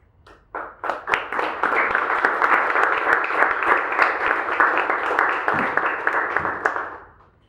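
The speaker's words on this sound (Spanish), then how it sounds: "Ese aplauso era el que les quería pedir, pero ustedes ya lo hicieron" Audience applause at a human rights event on popular housing, in honor of kidnapped and disappeared comrades: a few scattered claps swell quickly into sustained, dense clapping from a crowd, then fade out near the end.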